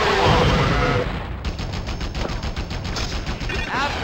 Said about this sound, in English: you bring out your attack helicopter with missiles and machine guns on the bottom